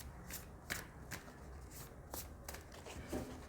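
Tarot cards are shuffled by hand close by, a quiet run of soft riffling flicks and taps repeating at an uneven pace, with no voices.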